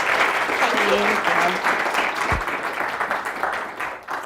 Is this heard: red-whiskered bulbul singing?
no